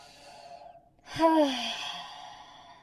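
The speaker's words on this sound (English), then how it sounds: "Give me for few rounds of the noisy breath" One noisy breath from a prenatal yoga exercise, a loud, close, voiced exhale with a sighing, gasping quality that rises sharply and slowly fades after a quieter breath before it.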